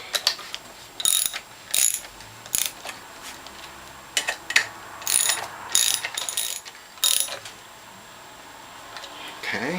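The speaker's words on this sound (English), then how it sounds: "the next step is to tighten the bolts for the reservoir and for the pump" A ratchet wrench clicks in repeated short bursts as bolts for the reservoir and pump are tightened on the base plate of a Norwalk juicer, close and crisp, with a brief spoken word at the start.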